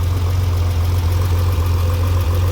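A 1964 Chevrolet Corvair engine with a custom dual exhaust idles close by, giving a steady, deep, throbbing rumble with an even pulse throughout and no voices.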